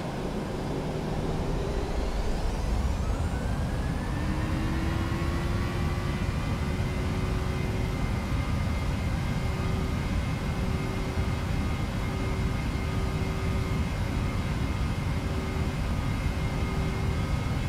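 A Boeing 737-800NG spooling up for takeoff in a flight simulator game: a steady, loud jet roar with a whine rising in pitch over the first few seconds, then holding a constant drone throughout, with no talk.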